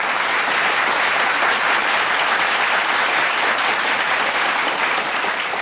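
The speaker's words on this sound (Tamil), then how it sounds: "முதல்ல எல்லாரும் கைத்தட்டுங்க" A studio audience at a Tamil comedy show claps loudly and continuously, a thick wash of many hands holding steady throughout.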